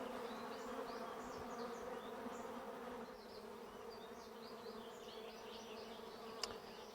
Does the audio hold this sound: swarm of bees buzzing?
yes